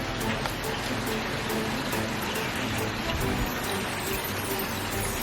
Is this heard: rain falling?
yes